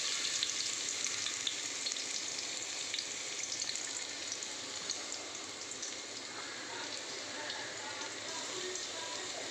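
Whole spices and garlic sizzle and crackle in hot ghee with a dense, continuous frying hiss, loud and close, broken by occasional faint stirring.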